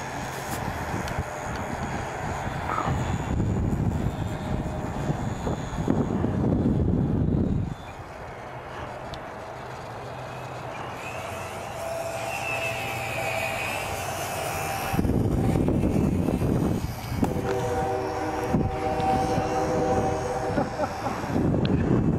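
A light airplane makes a slow flyby, its engine droning loudly at first, dropping away, then swelling again with a rising whine, heard outdoors against steady wind noise.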